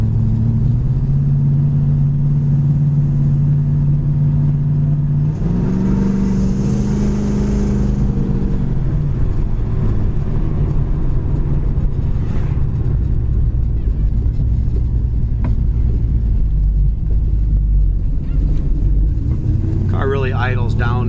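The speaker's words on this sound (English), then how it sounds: "Car really idles down nice at the stop sign." A 1974 Plymouth Duster with front disc brakes rumbles steadily while driving, its engine revving, then settling back to a smooth idle at a stop before pulling away and climbing through the gears, all close and continuous.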